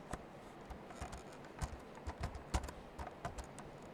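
Typing basic HTML tags on a computer keyboard in Notepad++, a steady run of close, sharp key clicks at an uneven rhythm against a quiet background.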